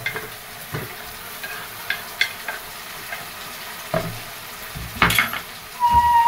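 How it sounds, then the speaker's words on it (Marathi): Onion and tomato sautéing in a pan, a soft sizzle broken by scattered stirring scrapes and clinks of utensil on metal, growing louder toward the end. "आता आपला कांदा परतून झालाय, टोमॅटो टाकून घेऊया."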